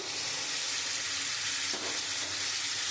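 Spices sizzling steadily in hot oil in a pan for a rohu fish curry with salt, coriander, chilli and turmeric powder, a continuous close frying hiss with a brief stir near the middle.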